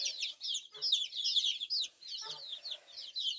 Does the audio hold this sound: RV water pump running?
no